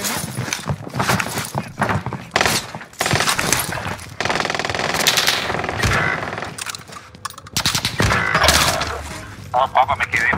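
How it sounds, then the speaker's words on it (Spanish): Gunfire in a Call of Duty Warzone match on Rebirth Island, including PPSh bursts: rapid automatic shots and scattered cracks in a dense, busy mix at close to mid range, overlapping game noise throughout. "pensé que te estaban disparando a ti"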